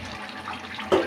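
Water splashes into a pot of spiced meat being cooked down, a short gush that swells suddenly near the end of a brief, quiet stretch.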